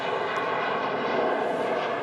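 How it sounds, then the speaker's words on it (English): A Jet2 Boeing 737 airliner departs Manchester Airport for Antalya, its jet engines giving a steady, broad roar at moderate distance with no talk over it. "Jet 2 on the way out to Antalya."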